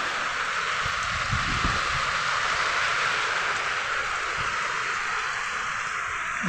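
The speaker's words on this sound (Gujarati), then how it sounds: "પાછો વરસાદ ચાલુ થઈ ગયો છે ફૂલ" Steady, dense hiss of heavy rain falling in a village amid strong wind, loud and continuous throughout, with a few low rumbling thumps mixed in.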